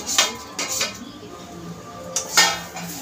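A spoon scrapes and clinks against a pan in a few distinct strokes while browned ingredients are mixed into roasted semolina for sheera, close and moderately loud.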